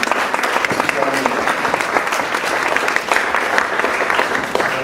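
A graduation ceremony audience claps for the ENTS team, a continuous wash of many hands in a large hall, loud and even for the whole stretch.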